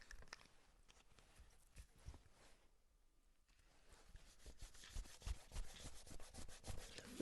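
Chromolux paper being rubbed back to lift its glossy surface, giving quiet, continuous scratchy scrubbing strokes that pause briefly midway, then resume louder and denser.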